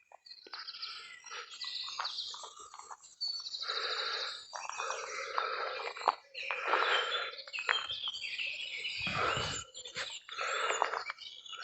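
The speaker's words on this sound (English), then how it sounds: "listen to the birds" Birds singing outside a house under renovation on a Sunday morning, a lively mix of chirps, trills and whistled phrases from several birds, fairly close and continuous.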